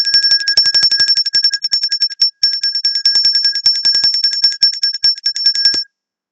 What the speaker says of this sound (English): And so I ring the bell.